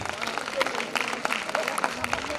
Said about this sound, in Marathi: सगळ्यांनी जोरदार टाळ्या वाजवून त्यांचं स्वागत करायचंय